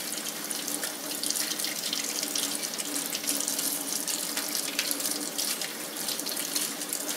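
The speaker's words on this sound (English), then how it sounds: "get them to your sink. Of course, just wash them up really good." Water from a tap runs steadily into a kitchen sink while freshly harvested sassafras roots are washed, a close, constant splashing hiss with no voices.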